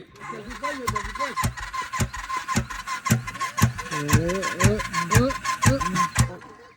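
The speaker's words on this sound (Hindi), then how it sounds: "तो बाइक स्टार्ट कर, इसका तो किक भी है ना" A motorcycle with a kick-starter sputters into life in a run of sharp, evenly spaced engine bursts, close by, while people talk loudly over it.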